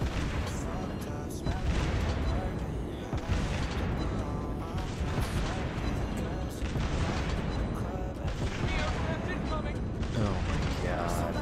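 Loud, dense barrage of naval gunfire and shell impacts in the World of Warships video game as the Dutch destroyer HNLMS Friesland engages, with rumbling booms that continue throughout under game sound effects.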